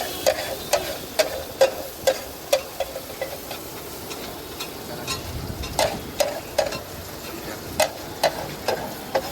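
Vegetables frying with cumin in a pan for sabji bhaji: a constant sizzle punctuated by a steady series of sharp clacks and scrapes from the spatula.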